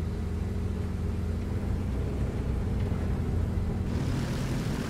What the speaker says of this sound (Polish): Dobra, silnik działa, więc dajemy pełną moc.